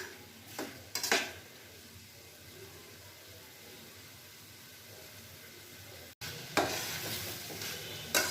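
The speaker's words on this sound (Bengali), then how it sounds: "ভালো করে আমি কষিয়ে নিচ্ছি।" Chicken keema masala with boiled potato pieces being sautéed in a pan gives a steady low sizzle, with sharper scraping stirs near the start and a louder burst of stirring and frying near the end.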